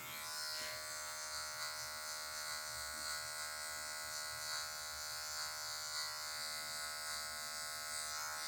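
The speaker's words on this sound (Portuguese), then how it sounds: "você vai ter que aprender a trabalhar com a ponta da maquininha" Electric hair clippers buzz continuously and close up through a low fade haircut, a steady high-pitched hum with slight wavering as the blade moves across the head.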